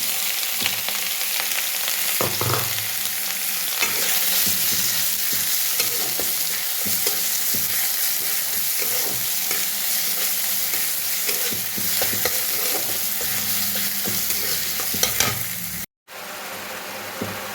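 Onion, ginger and green chili hit hot oil in a kadai while making ghugni, giving a continuous loud sizzle with occasional stirring clatter, ending in a brief cutoff just before the close.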